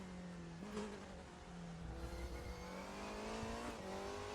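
A race car in the RaceRoom sim racing game drones along at steady revs, pitch dipping and climbing through gear changes and corners, fairly quiet with no talk.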